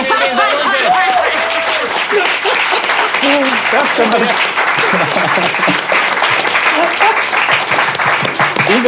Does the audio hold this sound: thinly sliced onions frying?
no